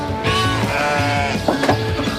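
Sheep and ewes in a flock bleating, several close, loud overlapping calls in quick succession.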